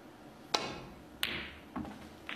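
Snooker balls clack sharply in a match setting: three crisp, distinct knocks about half a second apart, then a fainter fourth, each ringing briefly as a red is potted into the pocket.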